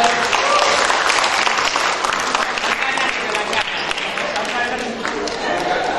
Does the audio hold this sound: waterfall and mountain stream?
no